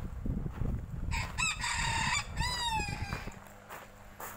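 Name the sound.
chicken crowing at an old farmhouse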